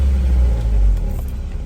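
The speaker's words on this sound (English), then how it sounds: "So it smooths out when you rev it." A Honda S2000 engine running rough idles with a low, heavy rumble and a brief rev, close and loud, with no voices over it.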